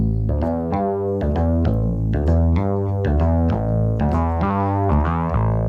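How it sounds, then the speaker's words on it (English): A Minimoog synth sequencer bass line layered with a human-played bass line, locked into a steady, loud, buzzy groove of repeating low notes with bright harmonic overtones, playing continuously without talk. "when you put that together with the other bass line, the mini Moog,"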